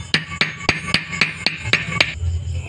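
Bearing being hammered into a Honda XRM 110 motorcycle engine during assembly: eight sharp, evenly spaced metallic strikes in quick succession, close and loud, then a brief low rumble.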